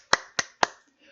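Three sharp hand claps spaced evenly about a quarter second apart, close and dry, with a faint murmur after, at a real estate auction seminar.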